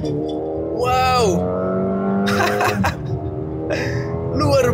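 A Mercedes-AMG GLA 35 launches hard under launch control, its engine rising in a loud revving sweep, dropping briefly at a quick gearshift, then climbing again close up while a man exclaims over it.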